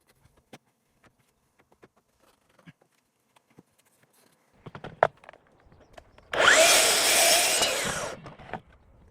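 Power saw slicing through a Moso bamboo decking board, a loud harsh burst of about two seconds after scattered clicks and knocks of handling.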